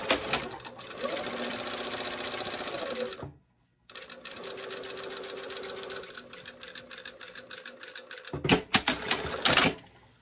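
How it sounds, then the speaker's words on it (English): A sewing machine stitching a shoulder seam at 3/8 inch whirs in fast, steady runs, stopping briefly, then resuming, with a few sharp clicks near the end. "I'm sewing it at 3/8 of an inch"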